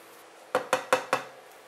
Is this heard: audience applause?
no